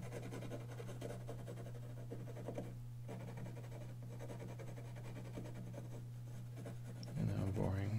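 Graphite pencil scratching steadily across paper while a portrait drawing is sketched, a soft continuous scribble under a low constant hum, with louder handling noise near the end.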